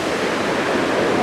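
A small waterfall at Cheonjeyeon Waterfalls on Jeju pours in a steady, even rush of falling water, close and continuous with no other sounds.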